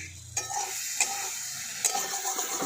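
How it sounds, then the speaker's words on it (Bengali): Cooked eggplant and greens are stirred in a pan to dry off their water: a soft, steady sizzle broken by three distinct scraping strokes of a spatula, close by and without speech. "এটা আমি একটু নাড়াচাড়া করে এগুলোকে শুকনো করে দিচ্ছি জলটা"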